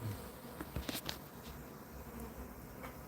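A small remnant of a bee swarm hums faintly and continuously, with several individual bees buzzing briefly closer past the listener.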